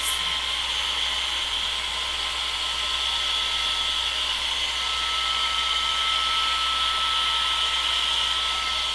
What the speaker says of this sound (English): And then I want to take my hairdryer on low